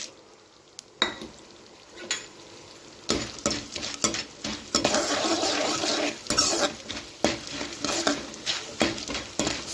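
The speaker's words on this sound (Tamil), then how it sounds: "இப்போ இதை நம்ம இந்த ஆயிலே சேர்த்து விட்டு நல்லா வறுத்து எடுத்துக்கலாம்" Dried turkey berries fry in hot sesame oil in a pan, with a steady sizzle and crackle broken by repeated clinks and scrapes of a spoon stirring against the metal, close and fairly loud.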